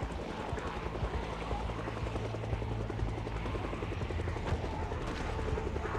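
Rotor chop of a helicopter passing overhead in Project Zomboid pulses steadily and loudly, a dense low rhythmic beating that fills the whole stretch without letup.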